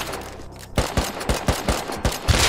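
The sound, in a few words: gunfire in the video game Rust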